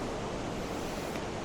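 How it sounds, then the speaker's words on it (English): A waterfall on a wintry fell around Seathwaite in the Lake District, heard as a steady, dense roar of rushing water without a break, loud and close, with no voices over it. "that's the main waterfall"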